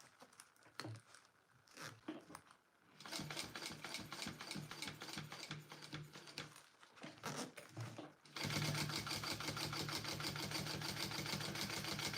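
A home sewing machine stitches forward with rapid mechanical clatter, starting and stopping in short runs before settling into a steady, louder continuous stitching burst near the end.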